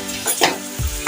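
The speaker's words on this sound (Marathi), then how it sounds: "शिमला मिरची नंतर आपल्याला कांदा घालायचा आहे बारीक चिरलेला, आणि तो छान भाजून घ्यायचा आहे" Chopped onion and capsicum fry in a pan for pav bhaji, a close, continuous sizzle broken by a few scraping stirs of the spatula, with no talking.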